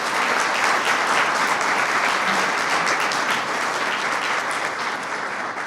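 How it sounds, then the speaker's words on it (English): Sustained, dense applause from an audience at a community Citizen of the Year awards ceremony, honoring the nominees; steady and loud throughout, fading only slightly at the end. "So let's have a round of applause for all 8 nominees and yourself."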